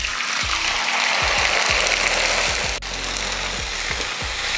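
Ground chutney hits a hot pan and sizzles loudly and steadily, a dense frying hiss with faint stirring scrapes throughout.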